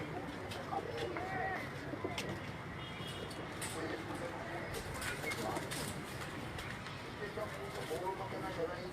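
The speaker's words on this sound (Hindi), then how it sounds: "तो दोस्तों ये जो कबूतर आप मेरी स्क्रीन पे देख रहे हैं" Pigeons coo on a rooftop in New Amarpura, Rawalpindi, with soft, repeated calls blending into a steady hiss of outdoor noise while a voice talks faintly in the background.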